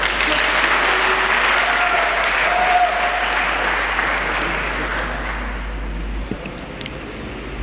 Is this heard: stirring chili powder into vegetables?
no